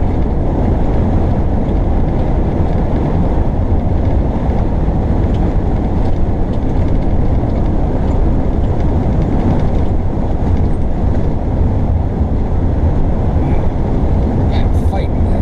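Steady, loud engine drone and road rumble fill an RV cruising on a highway between St. Louis and Iowa, constant throughout with no breaks, and a voice is heard speaking over the noise.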